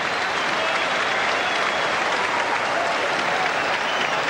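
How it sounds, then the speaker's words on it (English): A boxing crowd at a George Feeney versus Ray Cattouse bout cheers and claps, steady, dense and loud from start to finish, with people standing all around. "People all around me are standing and cheering and clapping."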